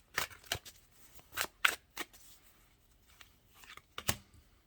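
Tarot cards riffled and handled during a reading, heard as several quick, crisp shuffling bursts and soft card slaps spaced irregularly at close range, with no voices.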